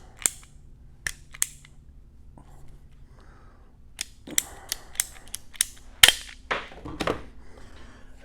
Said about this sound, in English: So I'll take my PVC cutters, and I'm going to cut about that much off